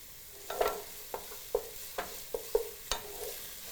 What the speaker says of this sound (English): I'm giving everything a good stir because I want that oil to get around every edge